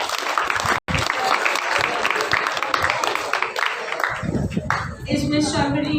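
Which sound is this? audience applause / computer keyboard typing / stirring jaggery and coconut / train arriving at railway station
audience applause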